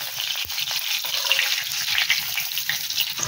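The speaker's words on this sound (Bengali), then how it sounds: "এবার বেগুনটাকে ভালো করে এপিট ওপিট করে ভেজে নেব।" Eggplant pieces coated in salt and turmeric fry in hot mustard oil, a dense, continuous close sizzle with occasional soft knocks as the slices are turned.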